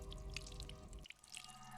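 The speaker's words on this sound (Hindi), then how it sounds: "बाथरूम में पानी भरने की आवाज आ रही है।" Water running in a bathroom, a steady trickle with scattered drips that changes character halfway through, faint and heard alone.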